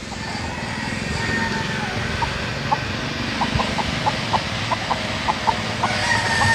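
Rooster and gamecock calls ring out over a steady rushing background of rain, with a string of short repeated clucks and crow-like notes in the second half, moderately close, on a farm in Montalban, Rizal.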